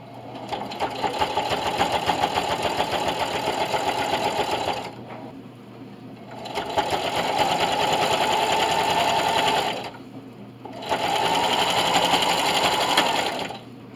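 A sewing machine stitches a double mitt hotpad in three long loud bursts of rapid whirring, separated by short pauses, close up and with no talking.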